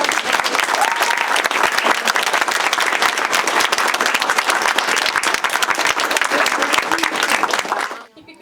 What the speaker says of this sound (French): je vais demander aux gens vraiment de les applaudir comme il faut